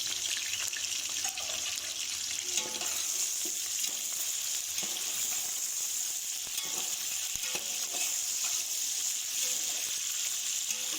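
Chicken pieces fry with browned onions in a pot for biryani, a loud, constant sizzle with scraping and stirring knocks throughout, close and unbroken, with no talking.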